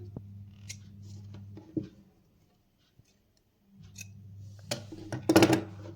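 Scissors cut through double-folded fabric for a kurti, giving a few close crisp snips and rustles, with a quiet gap in the middle and a louder cluster of cuts near the end.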